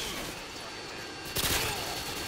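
Hip-fire gunfire from a Call of Duty MW2 match rattles in short rapid bursts, with a louder, brighter volley partway through, dense and close under game noise.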